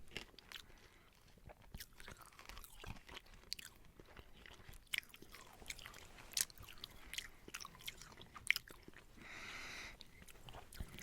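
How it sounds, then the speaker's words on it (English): Crunchy spicy candies chewed close to the mic, a dense run of crisp bites and crunches over eleven seconds with a few sharp loud snaps near the end. "Oh, they're way crunchier than I expected."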